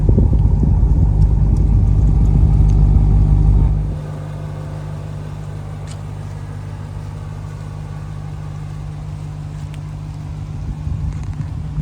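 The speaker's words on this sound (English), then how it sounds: "Love the sound of the Hellcat drivetrains." A 2023 Dodge Durango Hellcat rumbles loudly with a deep, throaty exhaust drone for a few seconds, then drops to a quieter, steady idle burble that continues with no voices over it.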